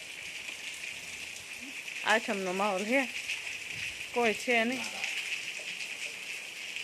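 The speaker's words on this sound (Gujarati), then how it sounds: "જો વરસાદ કેવો આવે." Steady rain patters outdoors on a street as a constant hiss, while someone speaks briefly twice over it.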